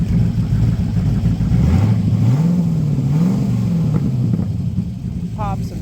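Engine of a 1998 TVR Chimaera 500 revving, a loud deep burble that rises and falls in pitch through a couple of throttle blips before settling back, close by.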